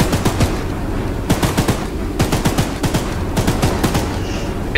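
Rapid gunfire from a weapon in the horror video game Choo-Choo Charles, with sharp shots fired in quick bursts and clusters over steady background game noise, loud and close.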